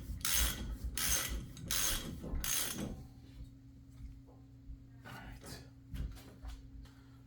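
A puller is hand-tightened to draw out a rusted axle on a Nissan Xterra during a wheel bearing replacement, giving close, loud rhythmic ratcheting and scraping strokes in bursts, then a low steady hum with faint clicks.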